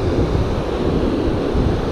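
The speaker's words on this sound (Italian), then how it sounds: "Il mare lavora tanto" Rough sea surf breaks on a sandy shore during surfcasting, a loud continuous wash of waves with wind noise over it and no voices.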